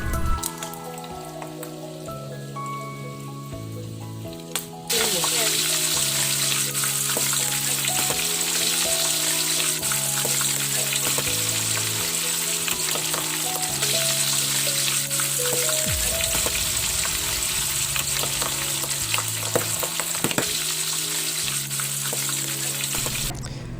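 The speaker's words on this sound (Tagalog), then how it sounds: "Kapag na-fry na lahat ng tofu, isunod naman natin ang liempo. Ganun din over medium heat at huwag i-over-fry para hindi tumigas" Pork belly liempo fries in a pan over medium heat, a dense hiss and crackle of spattering oil that starts abruptly after about five seconds and holds loud and steady. Soft background music plays beneath it, and no one speaks.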